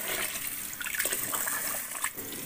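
Rice being washed in water makes a loud, close sloshing and splashing with a hissy, gushing texture, steady throughout the short stretch.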